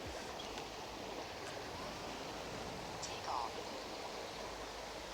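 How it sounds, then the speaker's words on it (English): Rushing water from a stream or waterfall, a steady broadband wash outdoors near a flying drone, quiet and continuous with a faint voice briefly underneath. "I bet all you can hear from the sound is just the rushing water."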